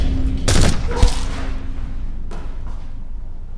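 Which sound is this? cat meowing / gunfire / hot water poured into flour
gunfire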